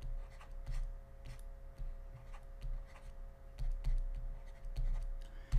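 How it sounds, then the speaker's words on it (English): A pen writes on paper with soft, light scratching strokes and faint taps, close and quiet over a steady low background hum, with no talking. "So let's write that down."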